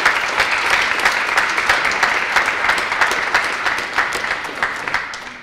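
A crowd applauds at a county dog award announcement, loud, dense clapping that holds steady and then tapers slightly toward the end, with no voices over it.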